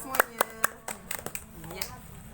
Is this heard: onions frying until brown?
no